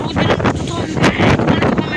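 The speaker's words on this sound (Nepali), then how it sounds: "यस्तो डेन्जर हावाहरू चलिरहेको छ" Strong, dangerous gusts blowing outdoors, buffeting loudly and unevenly in bursts close to the microphone.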